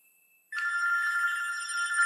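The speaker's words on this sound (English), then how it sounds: "it's ringing my phone" After a brief quiet moment, a telephone begins ringing with a steady electronic trill that continues to the end.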